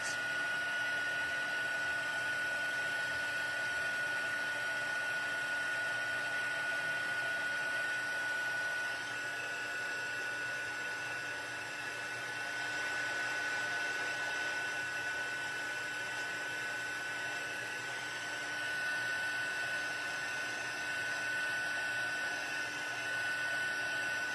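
Heat embossing tool blowing hot air over a craft stamp, a steady soft whirring hiss with a thin constant tone, running unbroken and fairly close throughout.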